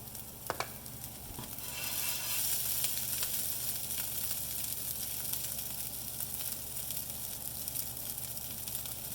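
Tofu frying in a pan gives a steady, fairly quiet sizzle and hiss, with a couple of sharp clacks of a utensil near the start.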